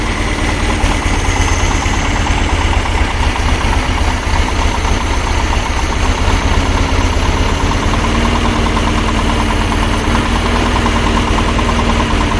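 An engine with a 1980 Solex PICT 34 carburettor idles steadily at an 850 RPM tick-over, a continuous rumbling hum with faint mechanical ticking, loud and close, with no voices.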